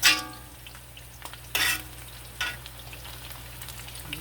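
Kerrygold butter sizzles and fries in a pan, a steady close crackle broken by a few sharper bursts as it is stirred or moved around, with no voices over it.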